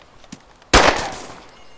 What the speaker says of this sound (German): Du hast auch gerade geschossen, ne?